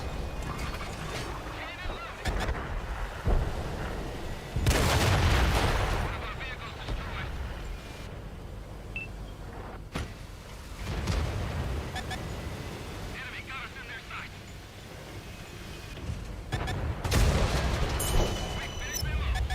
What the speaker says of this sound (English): And there we go, a decent chunk of 700 from artillery